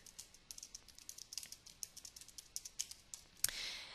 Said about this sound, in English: I can just start typing as much as I want